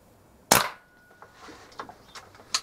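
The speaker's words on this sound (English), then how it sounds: "Last shot coming up, number 10. That'll be it. All 10 shots." A single sharp shot from a Kral NP500 air rifle cracks out close and loud, followed by a quiet mechanical click or two and faint handling noises.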